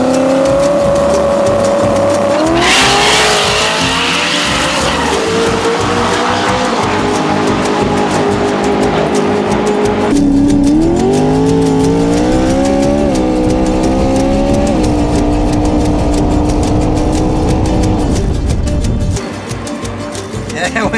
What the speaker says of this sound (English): Two-wheel drive burnouts. We out here doing four.